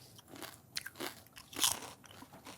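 Crisp, close crunching bites and chewing of insects being eaten, several sharp cracks in uneven rhythm over a quiet background with no talking.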